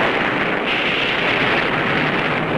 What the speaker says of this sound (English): So a nuclear test led to an explosion.